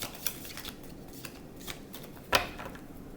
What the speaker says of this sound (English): I have to shuffle these ones a bit more